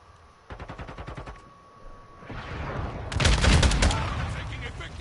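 Gunfire in Call of Duty: Modern Warfare II: a rapid burst of automatic fire, then a louder, denser volley of shots with booming impacts, close and heavy.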